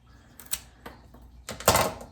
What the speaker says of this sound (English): We're gonna cut off that rot.